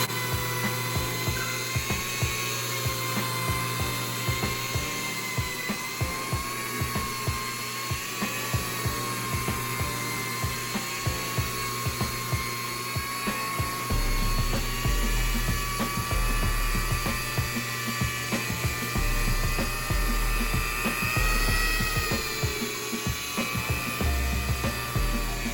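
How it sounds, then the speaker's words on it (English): A cheap Harbor Freight cordless drill with a drill brush attachment whirs steadily at close range scrubbing a very dirty couch, its motor droning with a scrubbing, rattling texture that shifts in pitch and load throughout. "just use a drill. I'm just using a cheap Harbor Freight one with a drill brush attachment."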